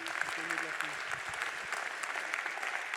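An audience applauds the teams at the close of a DIY project event. The clapping is steady and moderately distant, with faint voices under it.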